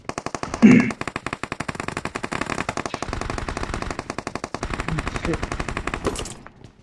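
A shotgun fires rapidly and repeatedly in the video game BGMI, with sharp gunshots in quick succession that run on for several seconds at close range. A voice briefly comes through during the firing.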